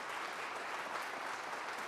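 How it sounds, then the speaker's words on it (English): An audience applauds board and staff at a community foundation annual meeting, a steady, dense wash of many hands clapping at moderate distance, continuous throughout with no voices over it. "let's give the board and staff just a wonderful applause for their work and their dedication to this community"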